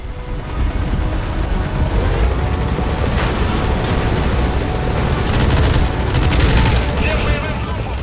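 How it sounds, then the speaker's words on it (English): A helicopter's minigun fires in Metal Gear Solid V: The Phantom Pain, rapid bursts of gunfire rattling over the constant loud thrum of rotors, with a voice speaking over the action. "we'll use the helicopter's minigun to take out enemies"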